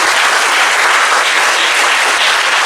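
A church congregation at a GMIT anniversary thanksgiving service claps steadily and loudly, a dense, unbroken wash of applause filling the room with no voices heard over it.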